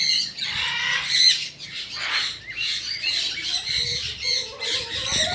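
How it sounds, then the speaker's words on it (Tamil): Birds squawk at a bird park in Yelagiri. Several bursts of harsh, high, overlapping calls sound close by, with brief lulls between the bursts. "இது பாருங்க ஃபுல்லாக பறவை தான் இருக்குது."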